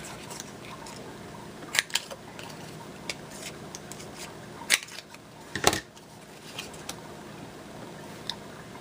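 A corner punch or scissors rounds the top corners of a handmade card made with My Minds Eye paper and washi tape, giving several sharp, faint snips and clicks spaced irregularly over quiet room tone.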